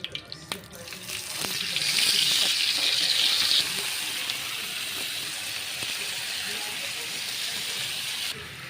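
Chicken cooks in ghee in a pan, giving a steady hiss of sizzling that swells after the first couple of seconds and then holds at an even level. A few faint knocks come near the start.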